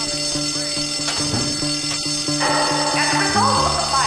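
Dorm fire alarm ringing in a steady repeating pulse of tones, loud and continuous, with other tones and faint noises layered underneath toward the end.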